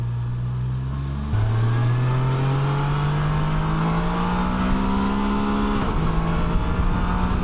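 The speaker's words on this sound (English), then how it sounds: "Does rev out pretty high for a larger motor" A 2025 Can-Am Canyon's larger engine, ridden in sport mode, revs loud and close. It steps up through the gears in steady climbing pitch sweeps, with a brief dip at each shift, and no one talks.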